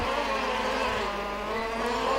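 High-pitched whine of RC model formula race cars racing on a club track in Groningen, a continuous loud buzzing drone with no pauses.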